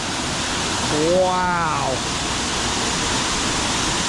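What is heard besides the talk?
waterfall rushing in Barrington Tops National Park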